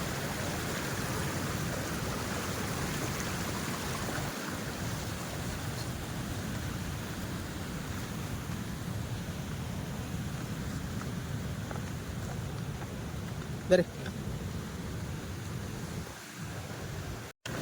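Steady broadband rushing of sea water and surf fills the clip, constant and fairly loud, with no voices.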